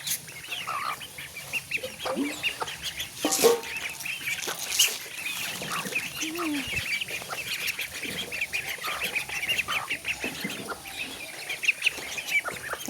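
Backyard chickens cluck steadily alongside growing ducklings at a village home, a busy, continuous mix of soft clucks and calls at moderate distance.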